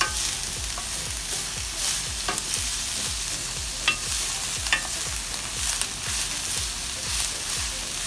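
Burdock (gobo) root and carrot stir-fried in a pan, a steady close sizzle with a quick regular rhythm of tossing and scraping strokes and occasional sharper utensil clicks, no voices.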